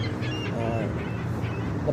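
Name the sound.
noisy birds honking, like geese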